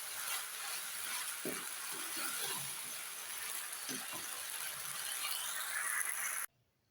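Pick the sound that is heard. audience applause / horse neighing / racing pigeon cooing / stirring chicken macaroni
stirring chicken macaroni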